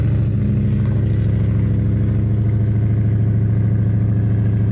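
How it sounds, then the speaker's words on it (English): A 1985 GT car with a Gen 1 Coyote engine, two-speed Powerglide and built 9-inch rear end idles steadily and loudly, a constant low rumble throughout with no voices. "Can I believe Corey's car is running?"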